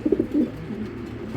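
A racing pigeon, a female offered for sale, coos in low repeated throaty pulses, close and moderately loud, with the burbling calls clustered at the start and softer murmuring after.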